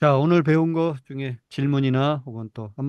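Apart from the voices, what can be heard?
None of the usual background noises is heard.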